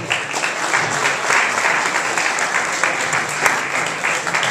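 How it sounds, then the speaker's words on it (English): Steady, dense applause fills a room at a legislative breakfast after the New York State Comptroller is introduced, a loud, even wash of many hands clapping with no break. "Give him another round of applause."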